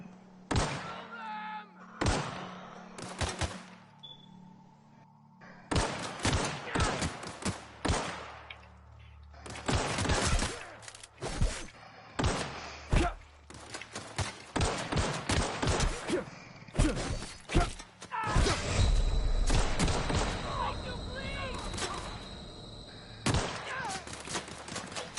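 Bursts of gunfire from The Outer Worlds video game, sharp shots and rapid volleys separated by short pauses, fairly loud and mostly alone with a little talk.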